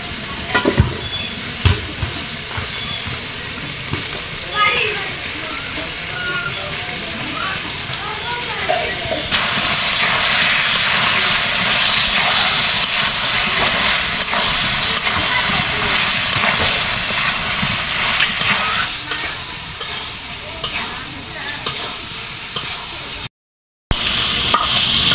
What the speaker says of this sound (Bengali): মশলাটা ভালো করে কষানো হয়ে গেছে, এখন আমি মাংসটা দিয়ে দিব